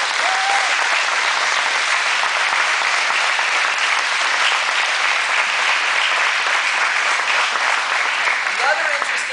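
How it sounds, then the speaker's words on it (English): Sustained audience applause at a martial arts event, loud and steady throughout with a dense wash of clapping from a large crowd, no break in the sound. "give these guys a huge round of applause for their hard work"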